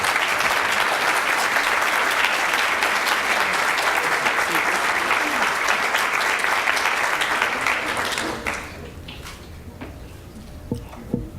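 Audience applause at a school board meeting, a dense sustained clapping from a large crowd that holds steady for about eight seconds, then drops off to scattered claps and room noise.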